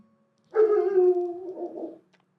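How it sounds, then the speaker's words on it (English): A single drawn-out dog howl, sliding into a softer wavering whine, close and loud against a quiet background, with no voices. "That's my dog going crazy."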